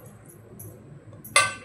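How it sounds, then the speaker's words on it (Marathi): Potato pieces drop into a pressure cooker already holding sprouted moth beans for misal, giving one sharp, close clink and clatter near the end after a quiet stretch. "बटाट्याच्या फोडी घेतल्यात ते घालून घेऊया"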